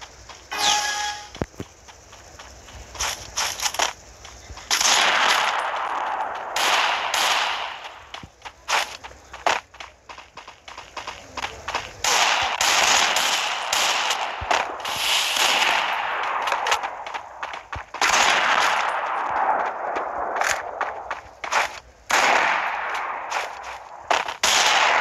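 Gunfire fills a shooting video game, mixing a Desert Eagle and sniper rifle, with bursts of rapid shots, single cracks and crunchy impacts going on and off over about twenty-five seconds, fairly loud with scattered quieter gaps.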